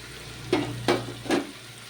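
Cucumber pieces are stirred into a salted fish, cucumber and tomato curry, with three distinct scraping stirs at steady intervals over a low, continuous frying hiss and hum.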